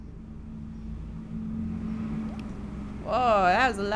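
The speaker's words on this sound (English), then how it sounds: "Whoa, that was a loud bus" A loud bus passes nearby in a video game setting, its engine rumble building steadily and then swelling into a brief, harsh roar near the end.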